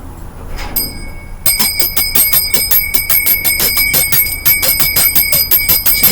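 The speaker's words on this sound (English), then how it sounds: "let me ring my bell." A bicycle-style bell rings rapidly and repeatedly for several seconds, a loud, close, bright metallic trill with no talk over it.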